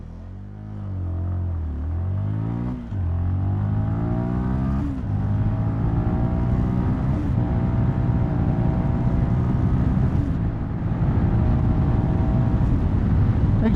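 A 2024 CFMoto 300NK motorcycle with a 292cc single-cylinder engine accelerates hard through five gears, its loud, close engine note climbing and dropping with each shift, no talk over it.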